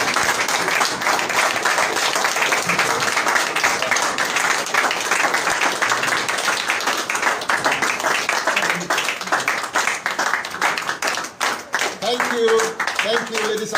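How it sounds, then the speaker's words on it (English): An audience at a conference stands and claps, a steady dense wash of applause lasting throughout at moderate loudness, with a few faint voices near the end. "Rise up and clap for leader"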